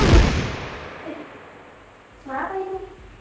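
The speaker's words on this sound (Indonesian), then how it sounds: "Karina, pembunuh itu meledakannya." An explosion in a short thriller drama opens with a heavy, close boom that fades over a second or two, after which a voice speaks briefly over the fading tail.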